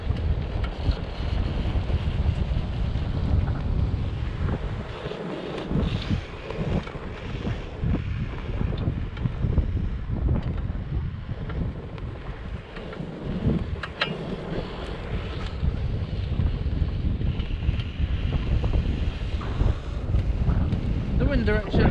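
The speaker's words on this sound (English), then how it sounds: "The wind direction has changed slightly." Strong wind on a beach at Hoylake during kite buggying, a constant loud rushing roar buffeting the microphone throughout.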